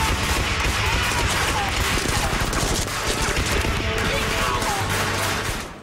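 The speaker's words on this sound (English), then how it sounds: "I think they're machine guns, but they're awesome, and I want one." Machine guns fire on the set of a Doctor Who action scene: a loud, unbroken barrage of rapid overlapping shots with no pauses, dense and harsh throughout.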